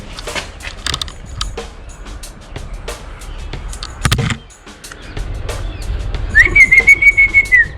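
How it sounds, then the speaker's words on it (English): A short, steady whistle to a cow near the end of the clip, heard over outdoor background noise at St. David's Fort with a few scattered knocks earlier. "I whistled for the cow to raise its head so that I'll get some frame"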